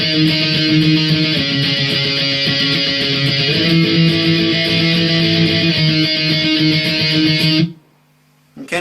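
Electric guitar playing simple octave shapes for the bridge of Blink 182's "Aliens Exist", loud and distorted with a sustained, driving rhythm that cuts off near the end, leaving a faint lingering ring.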